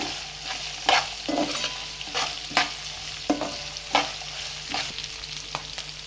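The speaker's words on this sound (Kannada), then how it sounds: "ಇದು ಚೆನ್ನಾಗಿ ಮೆರೂನ್ ಕಲರ್ ಬರೋವರೆಗೂ ಮಿಕ್ಸ್ ಮಾಡ್ಕೊಳ್ಳೋಣ. ಚೆನ್ನಾಗಿ ಫ್ರೈ ಮಾಡಿಕೊಂಡು" Banana flower palya being stirred and fried in oil with a spice paste in a pan, with steady sizzling broken by repeated scraping stir strokes roughly every second, close and clear with no talking.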